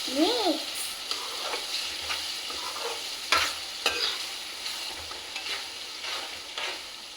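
Food frying in a pan with tamarind broth, a close soft sizzle punctuated by several scraping stirs and light utensil taps against the pan.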